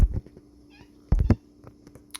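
A young pregnant cat gives two short meows close up, one at the start and a louder one about a second later, with quiet room noise between them.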